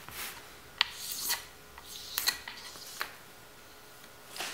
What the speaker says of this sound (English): take a razor blade, and this just seems to be the tool I like to use, and just get some of the high points of the surface off